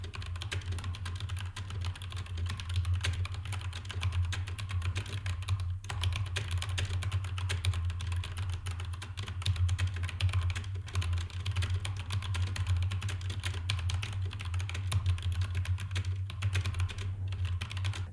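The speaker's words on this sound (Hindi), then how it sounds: "टाइपिंग करते वक्त एक चीज़ की आपको यहाँ पे ख्याल रखना है कि स्पेस पे नहीं रुकना" Steady, rapid clicking of a computer keyboard during a Monkeytype typing test: dense continuous keystrokes at an even pace for the full stretch over a low background hum, with no speech.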